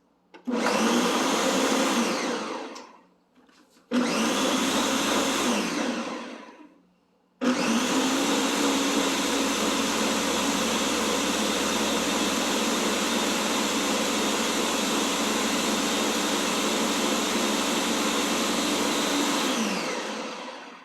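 A blender making a smoothie whirs loudly in two short bursts, then runs in one long steady roar before cutting off.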